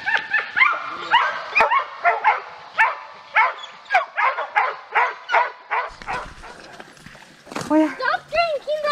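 Dogs on a bear-hunting trip in Hayward, Wisconsin bark in a quick run of sharp yips, then whimper and yelp near the end, loud and close.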